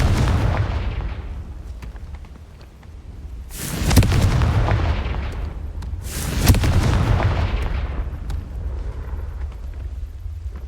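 Spell explosions from the Confringo blasting spell in Hogwarts Legacy erupt as two heavy, booming blasts a few seconds apart, each with a sharp crack, over a constant low rumble of battle.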